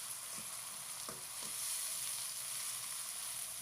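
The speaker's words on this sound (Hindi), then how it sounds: "अब हम इसके अंदर 1 अदद बारीक कटा हुआ टमाटर ऐड कर देंगे और टमाटर को भी फ्राई करेंगे" Finely chopped onion and tomato fry in a pan with a soft, even sizzle, a few faint stirring clicks now and then, fairly quiet and with no talking.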